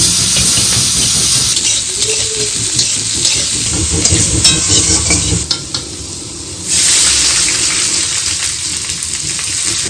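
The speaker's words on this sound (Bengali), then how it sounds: "রমা ওদিকে শাকের মধ্যে ফোড়ন দিয়েছে তেজপাতা পাঁচ ফোড়ন আর কিছু শুকনো লঙ্কা" Bay leaf, panch phoron and dry red chillies sizzle in hot oil as tempering for cooked greens, a loud, continuous frying hiss with stirring scrapes, one brief lull, then a fresh burst of sizzling.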